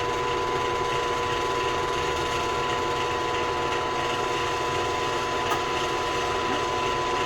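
A WEN 4212T 10-inch variable speed drill press runs steadily with a constant mechanical whir and faint rattling hum, close and even throughout.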